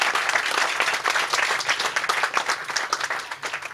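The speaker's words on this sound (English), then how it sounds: "Another round of applause for the veterans." Crowd applauding veterans at a book signing event, lively uneven clapping with distinct hand claps standing out, strong throughout and close by.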